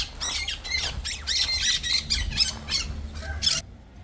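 Pet parrots kept outdoors let out a run of loud, harsh squawks and squeals in quick bursts one after another, then fall silent near the end.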